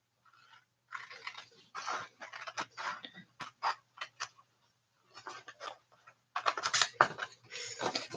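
Scissors snip through card stock along a score line in a series of short, crisp, close-up cuts, bursts of crunching snips separated by brief pauses, with no talking.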